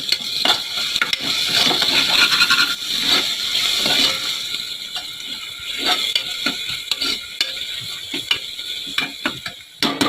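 Ginger garlic paste frying with well-browned onions for mutton keema, with loud rattling, scraping spoon strokes in a busy rhythm over a crackling sizzle.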